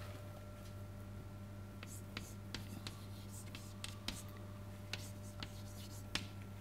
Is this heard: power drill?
no